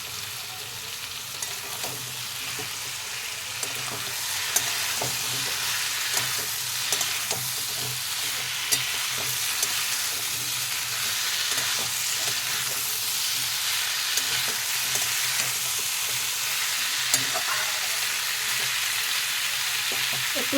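Boiled drumsticks and potatoes go into hot spiced oil in a pan, giving a steady, close sizzle with scattered crackles and occasional stirring scrapes that runs throughout with no talk.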